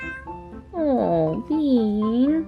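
A pet cat named Bean lets out two close, drawn-out meows indoors, the second longer and wavering, with faint background noise and no talk over the cries.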